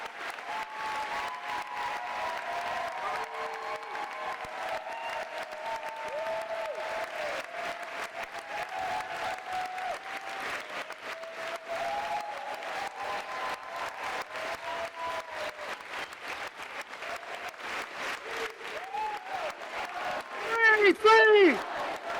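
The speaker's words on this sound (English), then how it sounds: "A massive round of applause for Ghassan Abu-Sittah." Sustained applause from a political rally audience welcoming surgeon Ghassan Abu-Sittah, a dense continuous wash of clapping lasting many seconds with crowd noise mixed in and a brief louder swell near the end.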